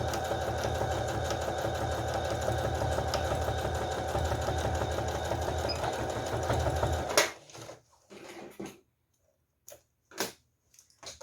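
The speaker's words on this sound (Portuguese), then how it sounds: "lembrando que eu tô usando uma máquina doméstica. Então, vamos rebater um dos lados." A domestic sewing machine runs steadily for about seven seconds, stitching a pouch lining. Several short separate bursts of stitching and handling noises follow.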